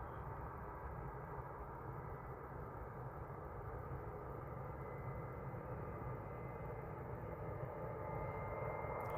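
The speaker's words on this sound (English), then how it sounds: "So there's Jet 2 on the roll now." Distant low roar of a Jet2 airliner on its takeoff roll at Manchester Airport, a steady rumbling engine drone that swells slightly toward the end, heard from afar without talking.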